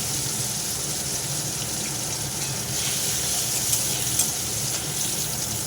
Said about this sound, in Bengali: ওই তেল যা ছিল চিংড়ি মাছ ভেজে তার উপরে দিয়ে দিলাম একটু শুকনো লঙ্কা আর জিরে ফোড়ন